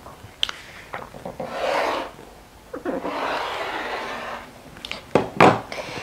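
A rotary cutter slices a fabric strip along a ruler for a fat quarter table runner, giving soft rasping strokes and light rubbing, with a few quiet clicks and sharper scrapes near the end, close and without speech.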